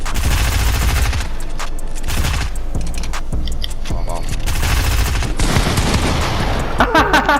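Rapid video game gunfire in a hurricane-themed match, loud bursts of automatic shots and booming hits under excited talking from a player.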